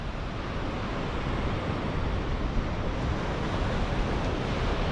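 Sea waves wash in on the Lincolnshire coast at Moggs Eye, a dense, steady roar of surf mixed with wind noise on the microphone, continuous and fairly loud, with no voices.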